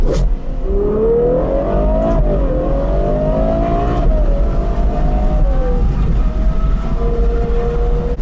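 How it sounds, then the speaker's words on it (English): A Ferrari 812 V12, an open-top GTS, revs hard through sharp gear shifts, its loud rising and falling engine note continuous and close throughout. "Shifting some gears where they get so sharp, it just sounds insane."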